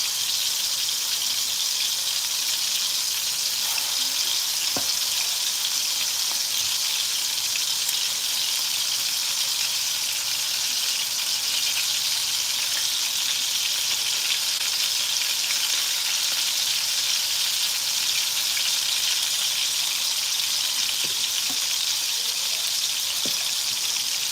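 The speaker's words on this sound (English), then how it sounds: "I'm just forming the meatballs and putting them in here to brown them." Curry ground turkey meatballs brown in a pan on a stove set to high, giving a loud, continuous hissing sizzle with occasional faint pops and no voices.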